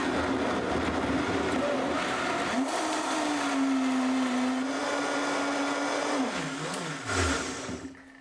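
A blender whirs through a kale and herb smoothie, motor pitch rising as it spins up, holding a steady loud whine, then dropping and winding down near the end; no talking.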